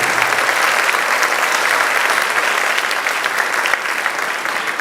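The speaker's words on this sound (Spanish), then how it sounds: "Denle otro aplauso más grande." A church congregation applauds during a Sunday service, a dense and steady wash of many hands clapping that fills the whole stretch loudly and evenly, with no speech over it.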